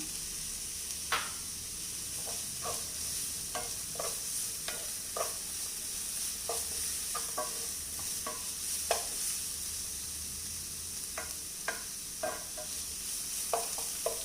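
Capsicum and mixed vegetables stir-fried in a pan for veg chapati noodles, a steady soft sizzle broken by frequent sharp scrapes and knocks of a spatula, close and alone.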